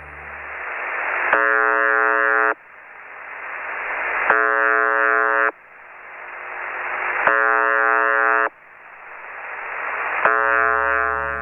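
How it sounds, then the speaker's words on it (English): The Buzzer, a shortwave radio station, sounds its monotonous buzz tone four times, each harsh buzz about a second long with quiet hissing static between, at a slow even pace. "broadcasts a short, monotonous buzz tone, repeating at a rate of approximately 25 tones per minute"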